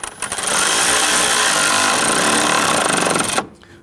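A power tool drives the lower headlight bolt on a 2011-2015 Kia Sorento with one loud, close, continuous rattling burst of about three seconds that stops abruptly.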